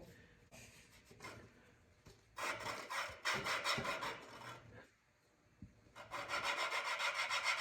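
Tiller engine valve lapped by hand with gritty grinding compound, a rough rasping scrub in back-and-forth bursts, close and moderately loud with brief pauses between strokes.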